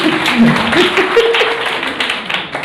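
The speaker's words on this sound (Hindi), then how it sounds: "ताली बजा दो भाई डॉक्टर साहब के लिए।" An audience claps for a doctor at a talk or gathering, a steady wash of applause running the whole time beneath a voice speaking over it.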